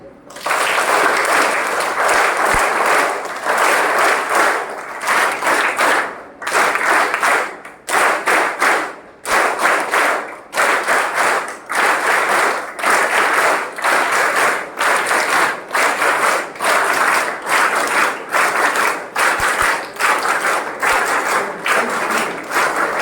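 An audience at an education seminar claps in bursts, with sustained rounds of applause broken by short pauses, loud and close throughout.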